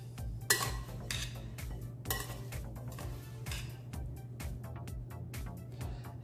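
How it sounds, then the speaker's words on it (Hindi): Stuffing ingredients seasoned with oregano being mixed in a bowl for vegetarian stuffed grape leaves, giving a run of close, irregular clinks and scrapes of a utensil against the bowl over a steady low hum. "इन सारे चीजों को अच्छे से मिला लेंगे।"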